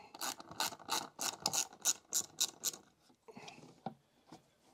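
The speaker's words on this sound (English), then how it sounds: "Loosen off the bolts on the Scorpion emblazoned airbox top." A ratchet loosens bolts on the airbox top of an Abarth 595, clicking in about eight quick, evenly spaced bursts, then a few softer, irregular clicks and taps as the bolt comes free, close by with no talk.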